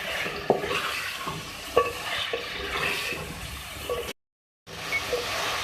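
Tomatoes sizzle and soften in a pan of chicken salan while being stirred, a continuous close frying hiss with occasional scraping clicks and a brief silent cut near the end.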